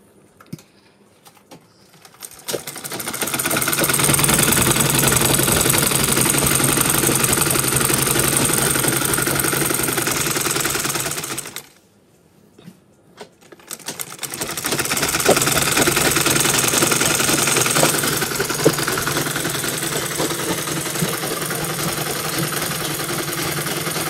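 A sewing machine stitches a garment sleeve in a steady mechanical whirring run that stops briefly partway through, then starts up again and runs on, with no one talking.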